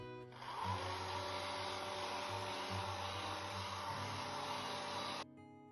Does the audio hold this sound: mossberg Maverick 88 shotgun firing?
no